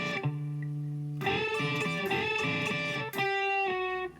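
An electric guitar with distortion slides on two upper strings and then plucks another string, sounding sustained slurred notes that shift pitch, loud and close, with no talking.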